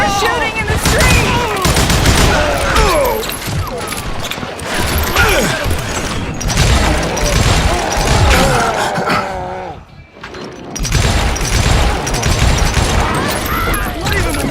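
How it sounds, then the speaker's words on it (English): Dense, loud gunfire rattles through a street shootout in the Wild West shooter Call of Juarez: Gunslinger, with overlapping shots and bursts nearly continuous, a brief lull near the end before the firing resumes. "They're shooting in the street!"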